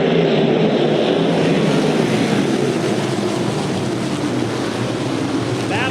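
USAC Silver Crown race cars rev their engines as the green flag flies for the Ted Horn 100 on the dirt mile at DuQuoin, Illinois, a loud, dense, continuous roar of many engines.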